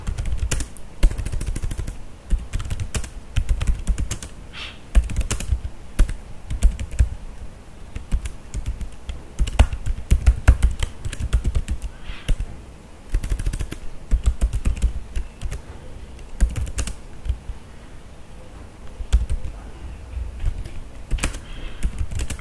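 Rapid, uneven keystrokes on a computer keyboard as Java code is typed, the near clicks running in bursts with short pauses throughout, no voices.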